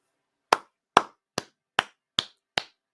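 Seven single hand claps ring out one at a time at a slow, even pace, close and crisp, with short silent gaps between them, celebrating a Liverpool equalizer.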